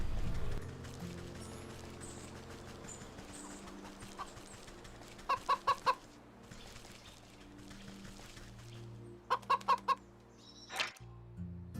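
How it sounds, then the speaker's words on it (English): Pheasant clucking in the video game Wytchwood, two quick bursts of four sharp clucks each, separated by several seconds, over a soft ambient background with no talk. "Pheasant."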